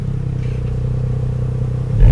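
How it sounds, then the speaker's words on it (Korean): Porsche Panamera 4 Executive idling with its exhaust flaps opened, a deeper steady exhaust rumble close up, swelling slightly louder at the very end. "이제 배기 플랩 열어서"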